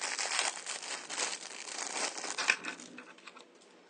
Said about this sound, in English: you kind of are able to move these rings in and out of each other with these bearings